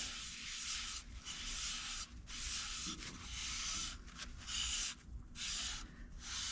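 Shellac finish being rubbed onto a woodturned piece, a steady broadband wiping and rubbing hiss that comes in repeated strokes with short pauses between them, close and fairly even in level.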